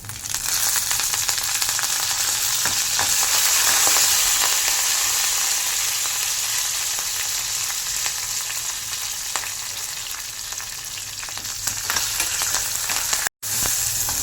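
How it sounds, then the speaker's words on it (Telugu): Garlic, dried red chillies and curry leaves frying in hot oil for a ridge gourd chutney tempering, a loud continuous sizzle and crackle with occasional stirring clicks, close and unbroken with no talk. "వెల్లుల్లిపాయ కొద్దిగా ఫ్రై అయిన తర్వాత ఎండుమిర్చి, కరివేపాకు వేసుకోవాలి."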